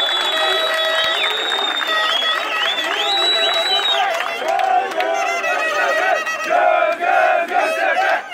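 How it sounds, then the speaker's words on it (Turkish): Crowd cheering and shouting at a Göztepe club 92nd anniversary celebration in Bornova, honoring the club president; loud, sustained roar of voices with rhythmic chanting-like swells throughout. "Ve Olgun Başkan için büyük bir alkış istiyorum."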